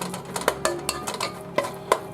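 A utensil stirs bacon in a pan in a home kitchen, producing a run of distinct scraping clacks at an uneven pace, close and clear, with a faint sizzle underneath.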